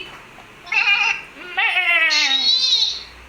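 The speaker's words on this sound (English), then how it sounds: "Sheep." A sheep bleats twice in quick succession, wavering and nasal, heard close and alone against a quiet background.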